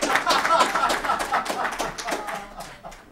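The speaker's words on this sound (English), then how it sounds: "You can give him an applause, too." Brief audience applause at a public policy training panel, a short burst of clapping with a little laughter that tapers off within a few seconds.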